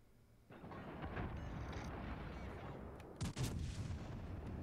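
Ship guns fire in a naval battle video game, heard as a steady rumbling barrage with a sharp, louder salvo bursting out near the end.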